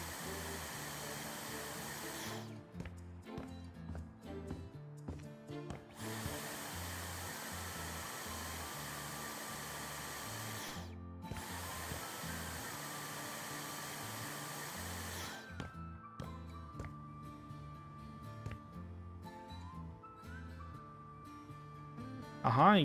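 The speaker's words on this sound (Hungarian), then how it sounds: "Jó, csináljunk meg a porszívózást." A vacuum cleaner in the video game House Flipper 2 gives a steady, loud droning whir that cuts out twice before settling under game music.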